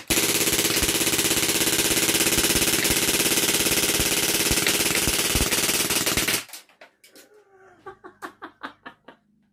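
A Legends MP German airsoft gun fires 4.5 mm BBs on full auto in one loud, continuous rattling burst of about six seconds that stops abruptly, followed by a few scattered clicks and thumps.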